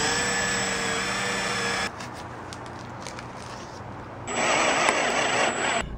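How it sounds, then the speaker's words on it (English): Power drill boring a hole into an outdoor refrigerator in a backyard, a high steady whine for about two seconds, a quieter pause, then a louder grinding burst of drilling. "Alright, so now we're drilling a hole in there."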